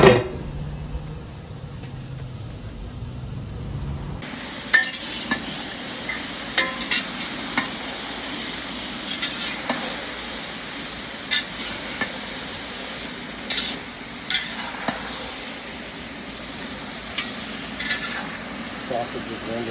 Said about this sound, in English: Sausage is rendering down pretty good.